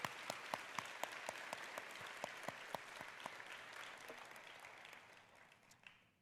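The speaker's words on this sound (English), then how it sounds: "Let's give them a round of applause." Applause from an audience at a university convocation, a broad patter of clapping with some distinct individual claps, gradually thinning and fading out toward the end.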